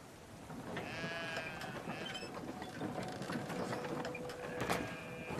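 Sheep bleat faintly in the video game Brothers: A Tale of Two Sons, a few thin wavering calls over quiet outdoor ambience and light mechanical clatter.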